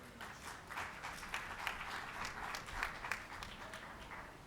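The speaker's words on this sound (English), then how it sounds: "Another round of applause to the State Secretary and Special Envoy for International Climate Action" Audience applause fills a high-level climate and security panel at the Africa Climate Summit, a steady, fairly quiet patter of many hands clapping with a few sharper claps, continuous throughout.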